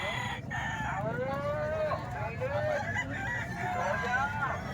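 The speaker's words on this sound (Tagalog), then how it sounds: "Gandang manok mga bossing." A mature game rooster at a poultry sale gives drawn-out, wavering calls in several long phrases, loud and fairly close over a steady hum of background noise.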